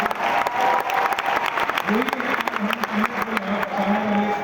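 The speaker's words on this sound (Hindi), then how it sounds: "जरूर तालियां बजनी चाहिए।" Steady applause from a crowd fills the room, a dense patter of clapping with a voice briefly audible beneath it.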